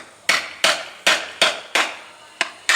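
Seven sharp metallic hammer blows, evenly spaced, drive a tool into an oil filter to pierce it during a car oil change; the strikes are close and loud.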